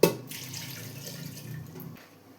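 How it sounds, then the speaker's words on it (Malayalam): Water pours from a vessel onto cassava pieces in a pressure cooker. The pour is close and splashy, starts with a sharp onset, runs for about two seconds and then stops abruptly. "ഇതിന് മുകളിൽ നിൽക്കുന്ന അത്രയും വെള്ളം ഒഴിച്ചു കൊടുക്കാം."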